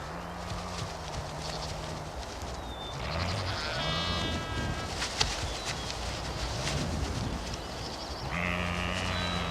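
Dall sheep lambs bleating in short calls over a busy outdoor background with hoof-like clatter, several separate cries spread across the clip at moderate distance.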